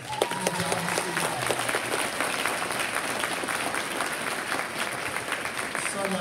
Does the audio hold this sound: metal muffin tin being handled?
no